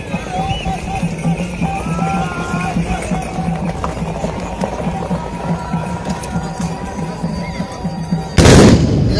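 Traditional Moroccan horseback fantasia at a rural festival: a dense crowd and announcer voice over galloping hooves, ending in one loud, sharp, unified rifle volley near the close.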